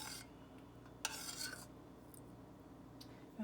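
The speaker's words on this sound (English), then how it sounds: "Mix that up." A mixture is stirred in a pot with a utensil, giving a few soft scraping and clinking strokes against the metal in short bursts over a steady low background hum.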